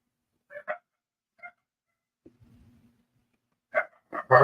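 Dogs bark in short, separate outbursts against near silence: two quick barks, a single softer one, then a low rumbling growl-like noise and a final cluster of louder, closer barks.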